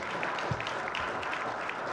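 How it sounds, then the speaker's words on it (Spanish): Applause from an audience at a book presentation during a book fair, dense steady clapping filling the room at moderate loudness with no talking over it. "Y un aplauso para Alfaguara y para Joel Dicker."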